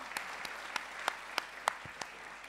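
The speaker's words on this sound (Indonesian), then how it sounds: "tepuk tangan buat Mas Ari" Applause from a stand-up comedy audience for comedian Arry Wibowo, a faint, steady wash of clapping with a few sharper individual claps standing out.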